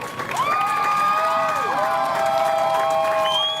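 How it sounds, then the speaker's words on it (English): A crowd at an outdoor Pride opening ceremony claps and cheers in a steady, dense wash, with shouts and whoops rising over continuous applause from start to finish. "Give them a round of applause"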